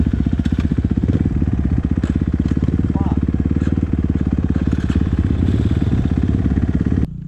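Drift quad engine held at a constant high rev by a stuck throttle cable, loud, close and steadily pulsing without letting off, with people talking over it before it cuts out at the end.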